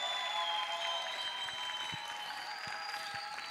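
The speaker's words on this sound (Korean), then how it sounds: "이렇게 막 부담되게 박수를 쳐주시니까" Soft applause from a church audience at a Sunday afternoon service lecture patters steadily in the background, fairly distant and even, with a faint tonal hum running through it.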